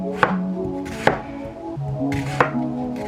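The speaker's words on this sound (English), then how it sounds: "I'm just going to cut this onion in half. And I'm going to slice it up" Knife cutting through an onion on a cutting board, three crisp chops spaced about a second apart over a steady low background tone, with no voices.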